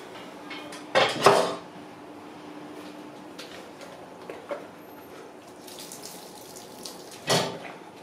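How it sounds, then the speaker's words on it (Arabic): Cooking pot being washed and wiped under running water, metallic clanks and scraping bursts over a faint steady trickle, close by. "نمسح البوطه"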